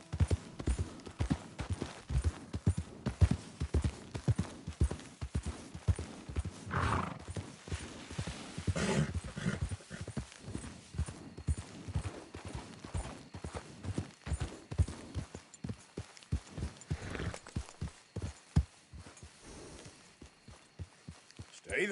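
Horse hooves clip-clopping at a galloping pace in the Western game Red Dead Redemption 2, a steady rhythmic beat with occasional whinnies and game background sound, with someone talking over it at times.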